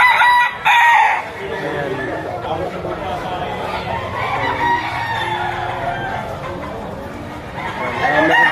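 A bull stag gamecock crows loudly at a poultry auction, its long crow rising above continuous chatter and people talking nearby, with other fowl clucking in the background.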